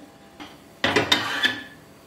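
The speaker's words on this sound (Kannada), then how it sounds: "ಇದನ್ನ ಸ್ಟವ್ ಮೇಲೆ ಇಟ್ಟು ಸಣ್ಣ ಉರಿಲಿ ತಿರುಗಿಸ್ತಾ ಇರಬೇಕು" A few scraping, clinking strokes of a spoon stirring food in a pan on the stove over low heat, short and fairly close, with quiet gaps between them and no talking.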